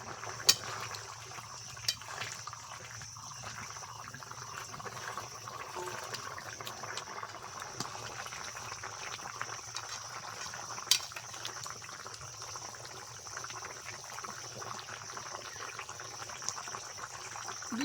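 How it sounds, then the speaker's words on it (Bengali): Fish curry gravy with fried rohu pieces and pumpkin simmers in a pan, giving a soft, steady bubbling with occasional faint pops, quiet and close. "ঝোলটা ফুটিয়ে নিয়েছি ভেজে রাখা রুই মাছগুলো ঝোলের ওপরে দিয়ে দিচ্ছি"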